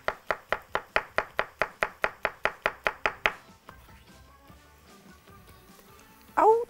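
A knife chops garlic rapidly on a board, about fifteen quick even strokes, then stops, leaving quiet room sound and a short sharp noise at the very end.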